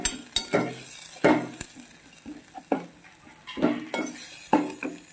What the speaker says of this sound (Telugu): అన్నీ వేసి వేయించుకోవాలి.